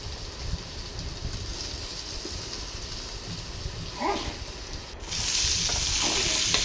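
Potato pieces fry with onion and turmeric in a pan, a steady close sizzle that swells louder toward the end as more pieces go in, with brief stirring scrapes and no talk.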